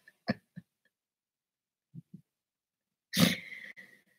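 Dogs on a sandy road giving a few short, close snorts and huffs, followed by a louder sharp bark-like burst near the end, with quiet gaps between.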